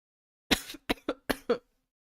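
A burst of five coughs in quick succession, close and fairly loud, the last one ending with a throaty rasp, then silence.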